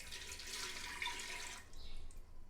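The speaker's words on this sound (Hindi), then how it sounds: "और अब मैं इसमें डालूँ 1 कप पानी।" A cup of water is poured onto potatoes in a pressure cooker for a yogurt potato curry, giving a short close splashing gush that trails off.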